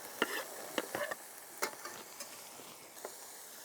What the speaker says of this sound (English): So I'm going to put all of this in now. Celery, garlic, carrots.